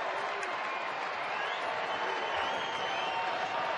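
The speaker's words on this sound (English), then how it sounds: "Crowd making a ruckus here." A packed baseball stadium crowd at a Los Angeles Dodgers–Arizona Diamondbacks game roars in a steady, dense wash of cheering and noise, loud and continuous with no clear breaks.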